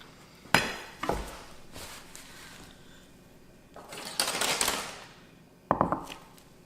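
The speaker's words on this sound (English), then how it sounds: "Take it and cut it into nice little bite-sized cubes." A knife cuts smoked pork belly into bite-sized cubes on a board, with a few sharp thuds and scraping slices spread apart, close and fairly quiet, with no one talking.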